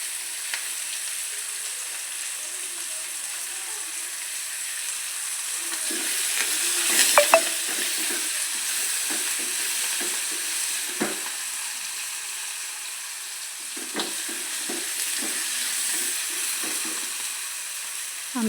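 Curry leaves fry in hot oil with a continuous hiss and sizzle, soft crackles and occasional stirring scrapes popping up over the steady frying noise.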